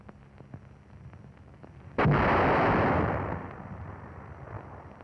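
An M252 81 mm mortar round bursting during US Army training: one sudden, loud blast that rolls into a long rumbling decay, heard from a distance with no talking.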